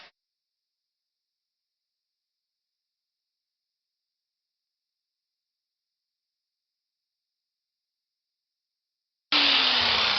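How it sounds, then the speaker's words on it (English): Angle grinder starting up on a bearing housing from a John Deere 4020 tractor during a clutch job, a loud steady whine that begins abruptly near the end after long silence. "So let's at least give the old grinder a try."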